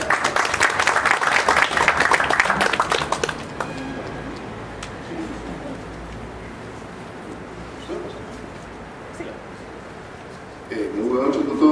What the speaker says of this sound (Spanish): Recibamos por favor con un fuerte aplauso a nuestro expositor.